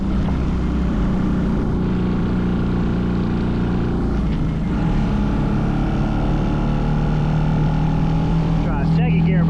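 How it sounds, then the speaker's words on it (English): A mini bike engine revs hard during a second gear burnout attempt, a loud sustained droning buzz with shifting pitch and a rising rasp at the end, close by, with people talking over it. "Try second gear burnout."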